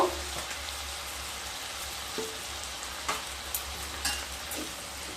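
Tomatoes cooking down in a pan for an Assam-style tenga fish curry, giving a soft, steady sizzle with a low hum beneath and a few sharper ticks and scrapes, with no voices.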